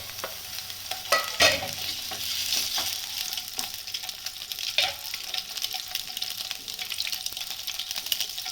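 Halved boiled eggs frying in a little oil on a tawa for anda masala, giving a continuous nearby sizzle with occasional sharper clinks and scrapes, one louder knock early on, and no voices.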